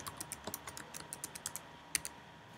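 Quick, irregular keystrokes on a computer keyboard as a password goes into a sign-up form, a dozen or so light clicks with one sharper tap near the end, close and fairly quiet with no talking.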